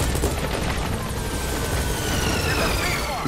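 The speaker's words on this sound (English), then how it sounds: "So we'll call the helicopter back to our landing zone." Helicopter in the video game Metal Gear Solid V, a dense rotor roar mixed with heavy gunfire and booms during battle, loud and continuous throughout.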